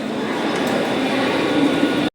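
A train rolls past close by, giving a steady, loud rumbling roar for about two seconds before cutting off abruptly.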